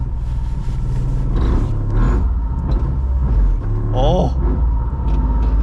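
A Cusco-built Toyota GR Yaris rally car from the Japan Rally Championship pulls away with a loud low engine rumble and rising revs close by, a man's startled exclamation heard over it.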